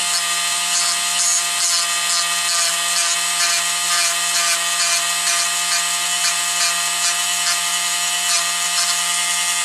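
Wood is sanded by hand with coarse 80-grit sandpaper in steady, rapid back-and-forth rasping strokes, loud and close, continuing unbroken with no speech.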